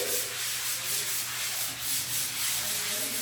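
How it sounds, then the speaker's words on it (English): Sandpaper rubbed over an interior wall to smooth it before painting, giving a close, soft, continuous scratchy rasp with a gentle back-and-forth rhythm. "So what I do, I just sand it"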